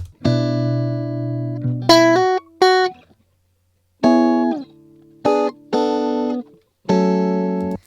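A clean, unprocessed DI electric guitar with no effects plays a short riff of chords and single notes, with brief gaps of silence between phrases.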